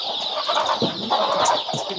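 Native farm chickens cluck nearby as a black hen is being caught, with quick, agitated bursts and squawks overlapping in an uneven, busy rhythm.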